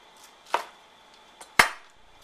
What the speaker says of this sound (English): So you slice them just like you'll see them in the restaurants in Chinatown